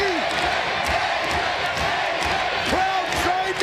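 A wrestling arena crowd roars and cheers continuously and loudly, a dense wall of shouting voices with rising whoops.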